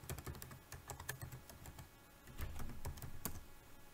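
A password is typed on a computer keyboard: a quick, irregular run of light key clicks, close and soft, with a short pause near the middle.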